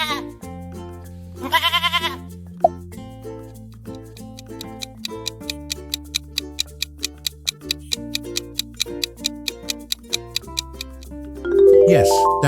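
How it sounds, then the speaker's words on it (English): A goat bleats in one loud, wavering cry near the start, and a second call rises near the end, both set against a steady ticking clock-like rhythm and musical tones. "Yes, that is goat."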